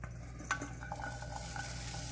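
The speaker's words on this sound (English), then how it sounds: "and it has a nice sizzle" Bowl of chicken and broccoli quiche ingredients poured into a hot pan, giving a steady soft sizzle with a few stirring clinks and scrapes, close and fairly quiet throughout.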